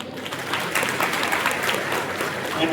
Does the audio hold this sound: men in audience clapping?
yes